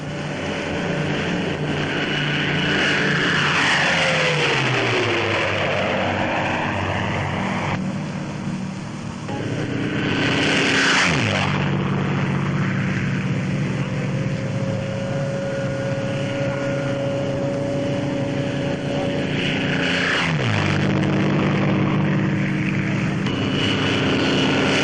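Wartime C-47 transport aircraft flying, a loud continuous propeller-engine drone with several passes that rise and fall in pitch as planes sweep by close, steady throughout with no voices.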